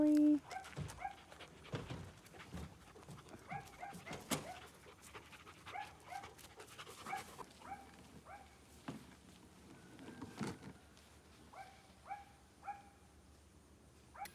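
Big dogs pant quickly and whimper softly nearby, with occasional footsteps and some quiet talk in the background.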